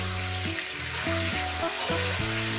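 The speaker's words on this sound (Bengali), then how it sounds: "আমি এটাকে প্রায় 5-6 মিনিট আমি এভাবে একটু ভেজে নেব" Potatoes and cauliflower frying in a pan for a fish curry, a steady close hiss and sizzle that runs continuously, with light stirring scrapes breaking in at regular intervals.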